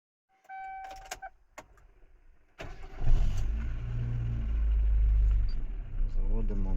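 A car engine cranks and catches after a few chimes and clicks, then settles into a steady rumbling idle close by, with a voice speaking briefly near the end.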